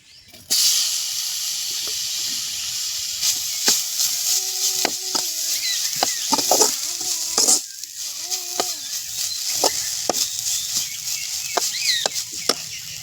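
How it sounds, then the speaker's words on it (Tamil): Grated coconut sautés in a pan, a hiss starting abruptly after a short silence and continuing with scattered scraping clicks, while faint chirping birds sound in the background. "இந்த ஒரு முடி அளவு தேங்காய் வதக்கி எடுத்துக்கலாம்"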